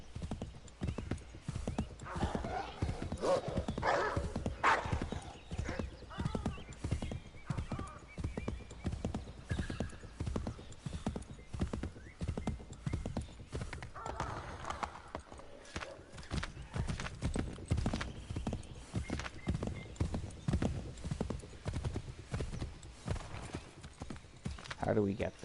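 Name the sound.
horse galloping and neighing in video game Assassin's Creed 3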